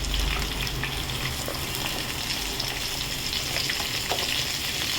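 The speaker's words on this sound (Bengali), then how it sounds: "আলুগুলো অল্প ভাজা ভাজা হয়ে গেছে, এবারে একে একে অন্য সবজিগুলো দেব। প্রথমে দিচ্ছি গাজর" Carrots drop into a pan of partly fried potatoes, and the oil sizzles close and steady throughout, with faint scraping and light stirring noises over the continuous frying.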